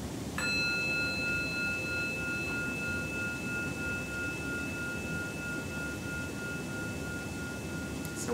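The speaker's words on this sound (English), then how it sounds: "We'll hear one sound of the bell to end this formal meditation." A single meditation bell strike rings out clearly, its pure tones sustaining and slowly fading over several seconds above a steady low background hum.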